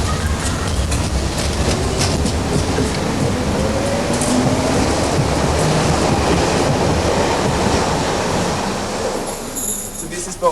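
A Berlin U-Bahn U1 subway train at Schlesisches Tor rumbles loudly and steadily on the rails, with wheel squeal and rattling carriage noise throughout.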